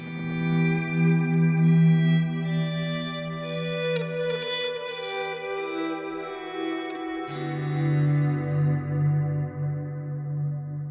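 A sustained electric guitar tone fades in smoothly, trailed by soft echoing repeats that blur into a lingering, reverberant wash.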